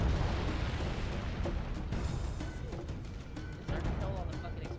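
Explosions and booming blasts from the video game Halo: Combat Evolved roll on continuously as a dense, loud rumble, with speech under the noise.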